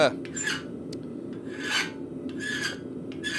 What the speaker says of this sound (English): my file and I'm just going over it until that dimple disappears